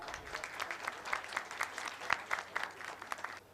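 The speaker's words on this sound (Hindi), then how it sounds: "एक तालियां हो जानी चाहिए साहब" Applause honouring a director at a voluntary organisation's ceremony, a moderately distant crowd clapping in a steady patter for a few seconds before fading out.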